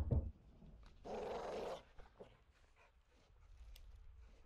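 A caged dog in the Modern Warfare II video game gives a brief growl-like rumble near the start, followed by a louder breathy snarl or bark lasting under a second, then quiet game ambience.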